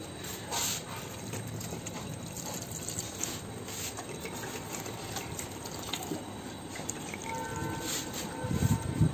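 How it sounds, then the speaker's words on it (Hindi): Water is poured onto a potted plant outside a neighbouring flat, a continuous close splashing trickle that runs for several seconds with a slight surge near the end. "मैं उसके पौधे पे पानी दे रही हूँ"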